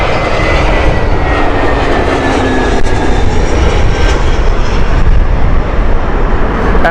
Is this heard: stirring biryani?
no